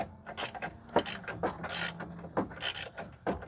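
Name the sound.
wrench turning a bumper spacer nut on a truck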